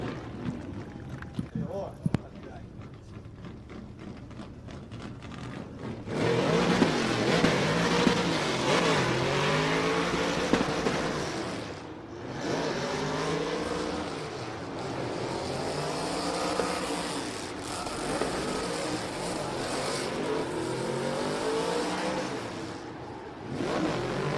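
A drift car at the Oman International Drift Championship qualifying roars through a run, its engine repeatedly revving and bouncing off the limiter as it transitions between zones, loud and continuous under an announcer's commentary.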